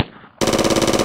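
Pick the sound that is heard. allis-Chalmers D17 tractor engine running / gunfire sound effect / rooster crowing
gunfire sound effect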